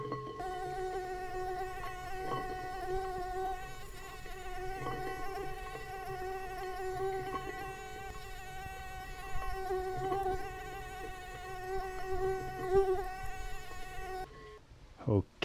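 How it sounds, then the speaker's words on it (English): A dense swarm of thousands of mosquitoes buzzing all around, heard as a steady high whine with stacked tones that holds for the whole stretch at moderate level, with a faint cat-like wail now and then. "the sound of thousands of mosquitoes be buzzing all around you"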